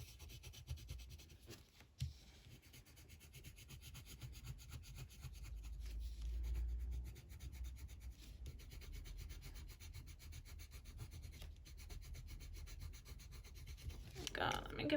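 Colored pencil burnished firmly onto paper, a steady close rubbing that scratches on without pause and grows a little louder midway, with a few small knocks and no talk.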